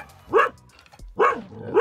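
A dog barks at another dog being walked past a parked VW camper on the south-west coast of Scotland, three sharp, close barks spaced apart with quiet gaps between them.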